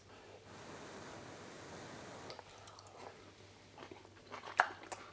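Someone chews crunchy Sicilian drowned broccoli with a little olive: soft, close bites and crunches that grow sharper toward the end, over a steady hiss, with no talking.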